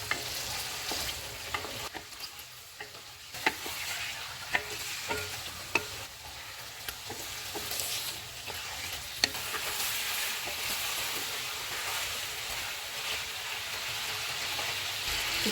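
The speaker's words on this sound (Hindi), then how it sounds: "चिकन डालेंगे, चिकन का कलर चेंज होने तक इसको पकाएंगे।" Chicken pieces frying in hot oil in a pan on a stove at full flame, a steady close sizzle with scattered stirring clatters and scrapes, no talking.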